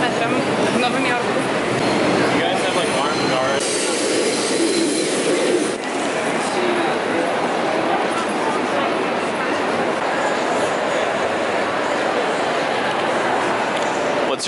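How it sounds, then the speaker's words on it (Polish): A New York City subway train roars along with a loud, continuous rattling rush, metallic screeching and clatter from the cars, voices faintly mixed in. "Będziemy jechali metrem w Nowym Jorku."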